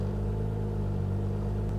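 A turbocharged VL car engine held at a steady 3,000 revs gives a continuous, close, low rumble with a constant drone and no change in pitch. No other sound is heard.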